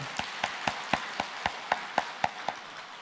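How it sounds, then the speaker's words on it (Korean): The congregation at a Wednesday morning seniors' church service claps in unison. About a dozen sharp, evenly spaced claps come in a steady quick rhythm over a soft room background. "박수 한번 칩시다."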